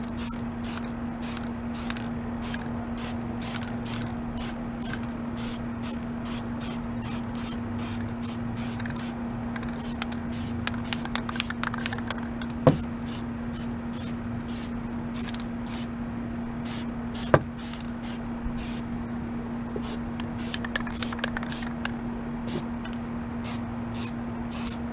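Spray painting a light coat on a Chevrolet Tahoe part: a long run of rapid, short hissing spray bursts in quick rhythm over a steady background hum, with two sharp clicks partway through.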